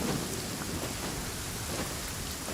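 Steady, dense rain with deep rolling thunder in a Genshin Impact thunderstorm, a continuous wash of downpour with low rumbles throughout and no voices.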